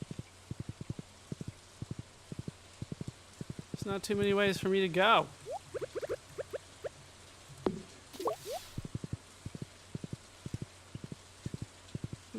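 Horse hooves clip-clop in steady rhythm while riding through Stardew Valley, with small game sound effects scattered in and someone talking over part of it.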